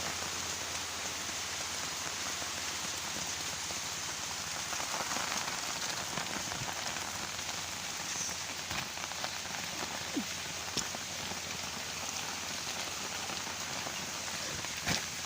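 Heavy rain pours steadily onto a surface, a constant dense hiss with scattered louder drops, close and unbroken throughout.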